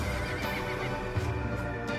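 A Hyracotherium, the dog-sized ancient ancestor of the horse, whinnies and neighs steadily, with faint hoof clopping beneath.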